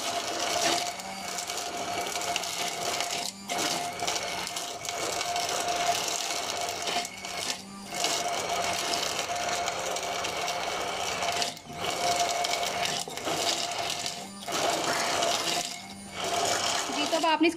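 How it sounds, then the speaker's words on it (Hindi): Falsa berries with sugar and Sprite whirring in a kitchen blender, a steady loud motor drone running continuously with a few brief dips between bursts, a voice talking over it. "चलें अब हम इसको ब्लेंड कर लेते हैं।"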